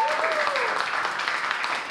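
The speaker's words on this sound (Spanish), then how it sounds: "¡Un aplauso!" Crowd applause at a lively Argentine folk music gathering, steady clapping and cheering filling the whole moment at close range, with a voice briefly sounding over it.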